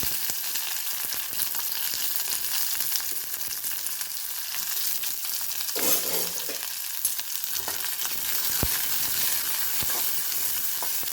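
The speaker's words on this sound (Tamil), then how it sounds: "இப்போ கட் பண்ணி வச்ச வெங்காயமும் பச்சை மிளகாவும் சேர்த்துக்கிறேன்" Chopped onions and green chillies frying in a pan after mustard seeds and curry leaves, a loud continuous close sizzle with occasional stirring clicks, no voices.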